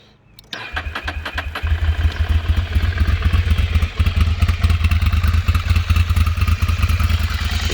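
A 2008 Ducati 696 motorcycle cranks and fires up first time in the cold on its standard exhaust, a brief starter whir catching into a loud, steady, throbbing idle with a mechanical clatter, close by and alone.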